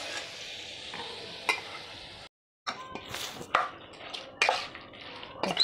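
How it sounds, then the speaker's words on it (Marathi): Hot oil poured over a raw mango pickle (kairi kucha) gives a broad hiss and sizzle with clinks and stirring bursts, cut by a brief silence, then more crackling and scraping, close and moderately loud. "हे तेल आपल्याला आपल्या ह्या कैरीवर टाकून द्यायचं आहे"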